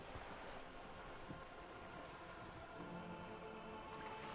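Steady, faint rain falls in the video game Disco Elysium, an even hiss of drops with no talk over it.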